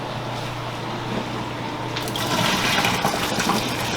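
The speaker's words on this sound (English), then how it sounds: "And drain this water out." Pasta cooking water poured out of a pot into a sink, a rushing splash that starts partway through and grows louder over a faint background hum.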